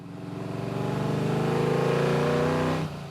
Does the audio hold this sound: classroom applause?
no